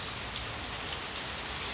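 Rain falling steadily on a morning, a soft, even hiss of drops on surfaces, faint and continuous with no voices.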